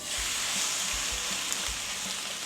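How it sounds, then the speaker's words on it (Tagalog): Korean pancake batter sizzles in a hot pan, a steady close hiss of frying oil running throughout with no voices. "Lagay na natin itong ating pipirituhin."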